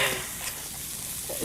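Zucchini noodles sizzling and being stirred in a hot pan, a steady soft frying hiss with occasional scraping stir sounds, fairly quiet and close.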